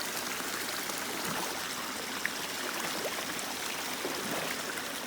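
Water pours and gurgles steadily from a busted beaver dam along a wooded trail, a continuous close rushing flow with no pauses and no voices over it.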